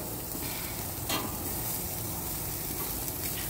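Sausages sizzle steadily in a pan over an outdoor flame, a continuous even hiss of frying fat with a brief stir or shift midway, close and without talk.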